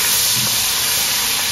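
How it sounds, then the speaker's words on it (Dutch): Bratwurst frying in a pan, a loud, steady sizzle that holds without a break, with no voices. "Dan ga ik hem lekker bakken."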